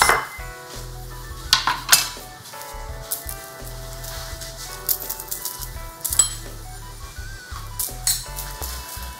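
Dishes and cutlery clink and clatter as meal-prep containers are set out and handled, with sharp irregular knocks over a low background hum and faint sizzling.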